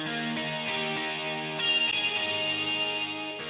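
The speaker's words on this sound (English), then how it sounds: "this guitar track, is sending a little bit of signal to the area effect and a little bit of signal to the reverb" An electric guitar track sent partly to an effects unit and a reverb, steady sustained chords with distorted, chorus-like shimmer, heard alone at moderate level with a short bright accent midway.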